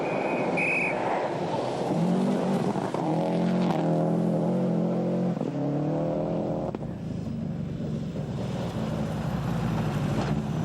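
A Subaru rally car engine revs and strains in the 1995 World Rally Championship, pitch climbing and falling in repeated surges, then settles into a rougher steady drone, heard from inside or nearby.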